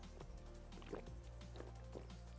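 A player in the survival game Rust drinks from a water catcher, giving a few soft liquid sips and gurgling drips over steady low in-game ambience.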